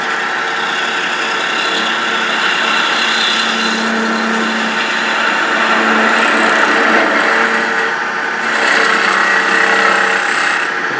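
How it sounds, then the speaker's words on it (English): Woodturning a Christmas tree shape on a lathe with a detail gouge, a continuous rough scraping and shaving hiss over the lathe's hum, swelling as the cut bites harder. "then I can come in there with my detail gouge"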